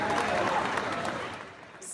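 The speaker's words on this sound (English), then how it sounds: "Smiles and applause there" Crowd applause at a German political event, a soft wash of clapping mixed with background voices that tapers off toward the end.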